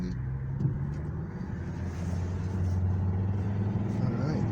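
A Volvo V70 Titanium edition accelerating on the road as the turbo spools up, a low steady engine drone rising gradually in pitch and strength, heard from inside the car at moderate level.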